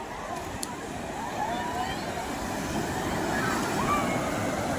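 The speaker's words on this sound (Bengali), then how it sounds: "আসছে একটা বড় ঢেউ" Ocean surf rolls onto the beach at Digha, a continuous broad wash of breaking waves with wind noise, building slightly louder toward the end.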